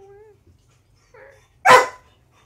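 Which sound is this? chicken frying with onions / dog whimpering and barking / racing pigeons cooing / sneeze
dog whimpering and barking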